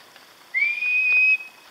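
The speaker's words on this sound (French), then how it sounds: "arrête de siffler dans mes oreilles" A person whistles a single sustained tone that slides up at the start and then holds steady for under a second, close and clear against quiet outdoor background in a forest on Réunion island.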